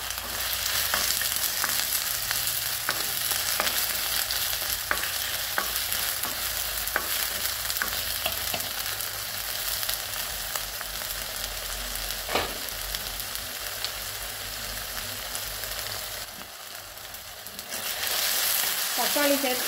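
Chopped tomatoes sautéing in a pan with ginger-garlic paste for a simple kurma, a steady broadband sizzle with occasional scraping stirs, loud and close throughout with no voices.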